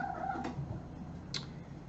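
A house cat making odd little vocal noises indoors, a couple of faint, brief calls near the microphone over low background hum, with no talking.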